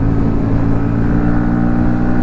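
A Bajaj NS160 BS7 motorcycle fitted with a new RS200 41-tooth chain set pulls hard under acceleration, its engine droning steadily and loudly, up close and continuous throughout, with no talking.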